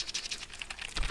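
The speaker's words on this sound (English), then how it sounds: "That was me typing too much good-mannered things in my keyboard." Rapid, quiet clicking of fingers typing on a computer keyboard, a fast, irregular run of keystrokes heard alone.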